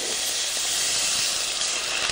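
Water poured into hot oil in a frying pan with peppers, onions and garlic sizzles and hisses loudly and continuously, a close, steady steam-like rush with no talk over it.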